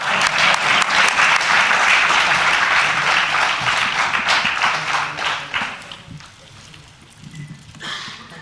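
Audience applause at a conference valedictory function: loud, dense clapping from a sizable crowd that fills the room, then thins and tapers toward the end, with a brief final burst.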